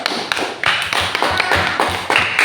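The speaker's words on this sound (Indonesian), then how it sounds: "Iya, tepuk tangan dulu" Second-grade pupils clapping in a primary school classroom, a brisk run of sharp, close claps with a few louder slaps, steady and dense throughout.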